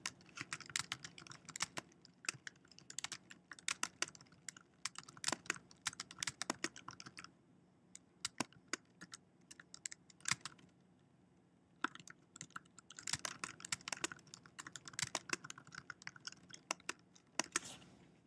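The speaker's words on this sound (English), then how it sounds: "Type in our copyright message." Rapid clicking of a computer keyboard as someone types a message, bursts of close, crisp keystrokes separated by brief pauses, quiet and alone.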